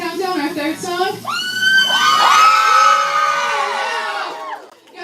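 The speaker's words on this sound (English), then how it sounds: "Good job on the cheering for that one." A concert audience at an idol live event cheers, whoops and shouts loudly after a song, with high-pitched screams rising over a dense, sustained crowd roar that fades near the end.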